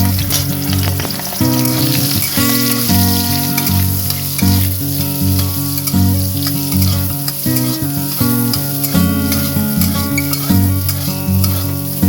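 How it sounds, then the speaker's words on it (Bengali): Soybean chunks fry in hot oil in a wok, a loud, continuous sizzle with steady stirring scrapes running the whole time and no talking. "আমি এখানে কড়াইয়ে তেল চাপিয়ে দিয়েছি এবং এর মধ্যে সোয়াবিন এবারে দিয়ে সোয়াবিনগুলোকে বেশ ভালোভাবে ভেজে নিতে হবে।"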